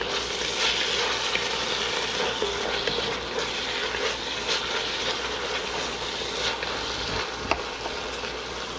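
Chili simmers and sizzles in a pot as ingredients are stirred in, a steady bubbling crackle with occasional scrapes and clicks of the utensil, close and continuous without talk.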